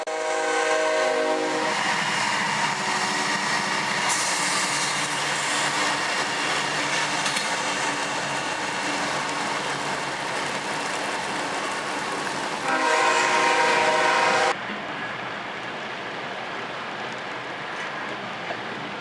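CSX freight train Q142 crawling downhill in full dynamic braking on the Chattanooga Subdivision, with a steady loud locomotive roar and rail noise throughout and a brief louder surge near the end before it eases off.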